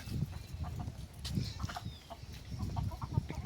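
Several roosters cluck in low, repeated bursts close by on a farm, with rustling and faint outdoor background between the calls.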